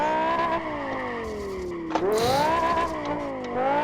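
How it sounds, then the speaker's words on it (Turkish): A BMW M5 E60 engine in the racing game Live for Speed whines and shifts pitch as it revs during drifting, with a brief tire squeal midway; loud and close, no talking. "Arabanın sesine hastayım ya."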